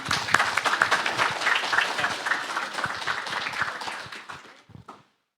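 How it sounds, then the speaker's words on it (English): Congregation applause for a pastor at a youth revival gathering, a dense burst of many hands clapping, loud at first and then thinning to a few scattered claps before stopping. "Pastor Yao En, a round of applause."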